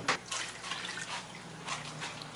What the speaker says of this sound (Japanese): こちらのバクテリア槽の方から水を取って入れます